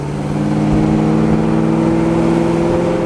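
A 1969 Chevrolet Chevelle convertible idles and revs through Flowmaster dual exhaust with a deep, throaty rumble, loud and close, steady throughout with no talking.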